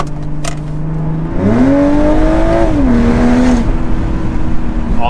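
A BMW M340i with an aftermarket valved exhaust and downpipe idles low, then revs up with a rising, throaty exhaust note, holds, and eases back down, valves open. It is loud and close.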